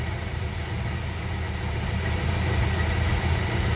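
A 1973 Dodge D100 pickup with its 318 V8 idles steadily nearby, a continuous low rumble that holds even throughout, slightly fuller toward the end, with no voices.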